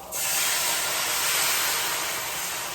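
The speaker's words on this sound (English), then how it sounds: "We're going to go ahead and add some red wine to it" Red wine hitting a hot pan of browned oxtail, bursting into a loud, steady sizzle and hiss that holds evenly from start to finish.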